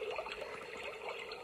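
A small stream trickles softly, a faint, continuous burble of running water close by with no voices.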